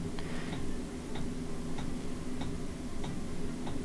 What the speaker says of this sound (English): you might be able to hear a ticking sound, and that is the fuel pump